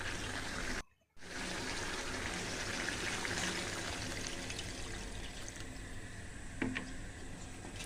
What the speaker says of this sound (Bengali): ঝোলটা দিয়ে দিলাম, আস্তে আস্তে হোক।